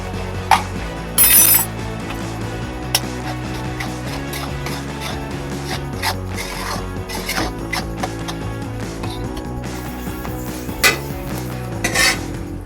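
A thick sukhdi mixture of jaggery, ghee and flour with ginger powder being stirred in a pan, busy metallic scraping and clinking of a spoon against the pan throughout, with several sharper clanks, over faint background music.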